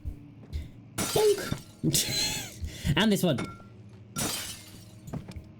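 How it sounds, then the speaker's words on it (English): Glass shattering when struck with a book in the horror video game Amnesia: The Dark Descent, with several sharp crashing bursts mixed in with game sounds and someone talking over them. "Didn't know you could break glass with a book."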